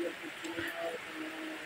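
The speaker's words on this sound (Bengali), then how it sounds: "বৃষ্টি পড়তেছে দেখুন।" Rain falls steadily over flooded roads in Begumganj, Noakhali, making a continuous even hiss with no distinct drops standing out.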